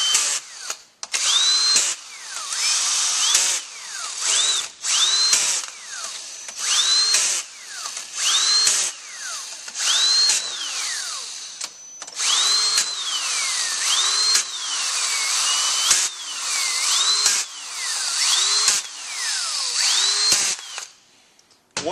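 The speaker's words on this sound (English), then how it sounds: "Now we're going to get these bolts approximately, you know, a little more than hand tight." Power tool, drill-type driver running bolts down on a Subaru 5EAT automatic transmission valve body: repeated loud whirring bursts rising and falling in pitch, about a dozen short runs spaced across the stretch, close and alone with no talking.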